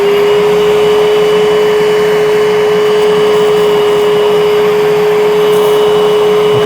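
A Bissell SpotBot carpet cleaner runs with its hose tool engaged, giving a loud, constant motor whine and a steady rushing airflow from start to end, with no talking.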